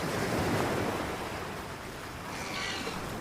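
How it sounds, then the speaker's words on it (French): Ocean waves washing onto a beach, a steady close wash of surf with a swelling rush and soft wind noise, no voices. "maman sait que j'adore le bruit des vagues, elle m'emmène à la plage"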